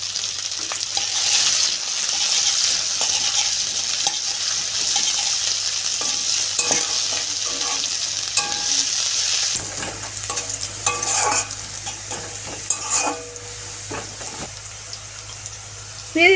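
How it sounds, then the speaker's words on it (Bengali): Onion and garlic frying in hot oil for a banana flower curry, a bright steady sizzle with stirring scrapes and clinks, broken by a short pause midway. "ওই তেলে দিয়ে দিচ্ছি আমি পেঁয়াজ"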